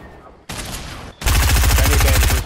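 Loud gunfire in the video game Fortnite: a short burst of shots, then after a brief gap a longer, denser stretch of rapid automatic fire rattling right up close.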